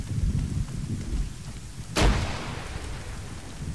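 A grenade goes off in a military video game with one sharp, loud blast that dies away into rumbling noise. Steady background noise runs before and after the explosion.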